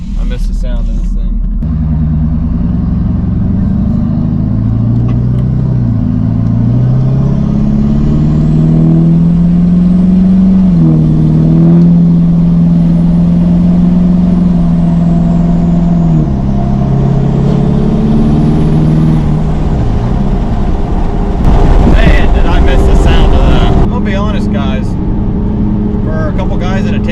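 A lifted Ford F-250 pickup's engine rumbles low and loud while driving with the windows down, rising and falling through shifts, with someone talking over it and a louder burst near the end.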